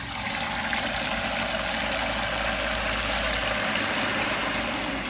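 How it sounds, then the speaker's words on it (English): Water pump in an ADJ Entour Ice low fog machine runs with a steady, loud mechanical hum and hiss, continuous and unchanging for several seconds with no speech over it. "We'll start the water pump."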